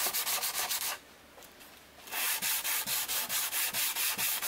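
Hand sanding wood with 100 grit sandpaper: rhythmic back-and-forth rasping strokes, close and loud, with a short pause before the steady scrubbing resumes.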